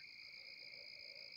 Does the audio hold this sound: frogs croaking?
yes